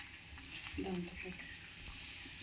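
Chana dal, urad dal and cumin seeds frying in hot oil for tomato bath, a soft steady sizzle with a few brief stirring clinks near the middle.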